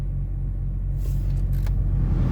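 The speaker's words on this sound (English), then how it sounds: "So now the car is started. It's idling." A used car's engine idles after starting, a steady low rumble held throughout at close range, with faint higher hiss partway through and no talking.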